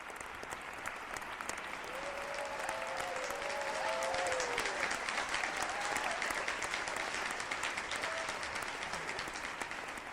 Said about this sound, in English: let's just give one more round of applause to all the computer science graduates today